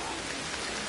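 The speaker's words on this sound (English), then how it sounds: "Since it is raining," Steady rain in the video game Ancestors, a dense, even hiss of falling drops across the whole moment with no breaks or voices.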